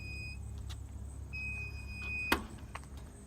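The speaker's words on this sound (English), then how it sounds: "You can hear the alarm going right now because I have the key on" Intermittent high electronic beeping from a Zoomlion ZT68J telescopic boom lift's key-on alarm, with short pauses between tones, a sharp click partway through and low idling hum underneath.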